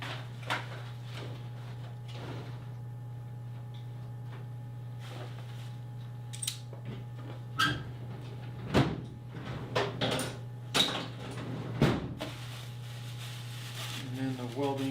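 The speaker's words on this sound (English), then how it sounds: "Put all that sandpaper into my sandpaper drawers." Drawers and cupboard doors in a woodworking shop open and close as sandpaper is put away. Scattered knocks and slides sit over a steady low electrical hum.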